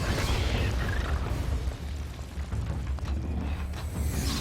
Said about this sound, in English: Now that's what I call heavy artillery.